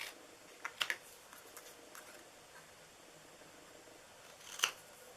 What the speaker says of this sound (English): I'm actually going to just freehand cut this